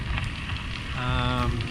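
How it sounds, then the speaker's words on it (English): Rain falls steadily on a wooded trail along the Great Allegheny Passage, a dense close hiss of drops under the trees, with a brief tone rising near the end. "Starting to rain pretty good now."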